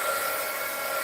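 A heat gun drying paint on a homemade Charlie Brown Christmas tree, a continuous close-up whoosh of blowing air with no talking.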